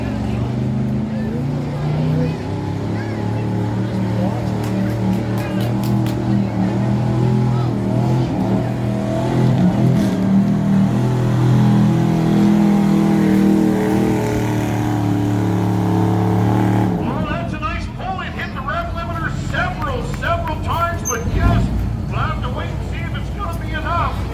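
A loud, older, mostly stock pickup truck with its exhaust cut off roars and accelerates, then cuts to rougher, quieter rumbling.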